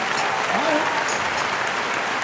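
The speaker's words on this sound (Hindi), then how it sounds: "एक बार जोरदार तालियां हो जाए फूफा जी के लिए, जोरदार तालियां।" Loud audience applause at a live Haryanvi ragini folk singing performance. The clapping is steady and even across about two seconds, with a voice briefly audible over it.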